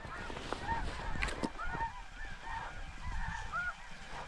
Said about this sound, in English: Another big blue goose.